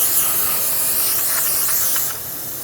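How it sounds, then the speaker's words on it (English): Brake cleaner sprayed onto a front brake hose fitting on a 2010-2013 Kia Soul: a steady, close aerosol hiss held for about two seconds, then easing slightly quieter, with no voices. "And brake clean that off."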